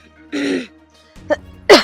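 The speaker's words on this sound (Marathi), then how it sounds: "खोकला आलाय ग" A few short, sharp bursts of coughing or sneezing, close and loud, separated by brief pauses.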